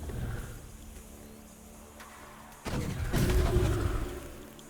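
Units firing shots in the strategy video game Age of Wonders Planetfall, heard as a sudden loud burst of gunfire and blasts partway through, over a quieter rumbling game background.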